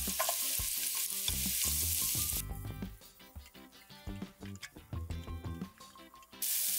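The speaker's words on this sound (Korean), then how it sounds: "이제 기름을 두르고 준비한 재료를 볶아줄 건데요" Vegetables such as onion stir-fry in oil for yakisoba. A close sizzle and hiss is broken by clattering stirs and spatula scrapes, then bursts of louder frying spray.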